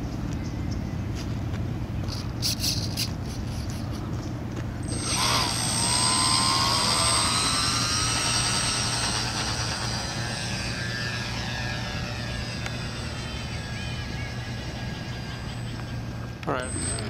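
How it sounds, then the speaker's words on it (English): Twin electric motors of an RC PBY model seaplane whine up sharply and hold a steady buzzing drone as it flies over a pond, over outdoor background noise. "the airplane has plenty of power with these two motors"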